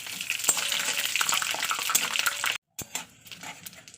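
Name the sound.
stirring cumin, dried chillies and bay leaves frying in oil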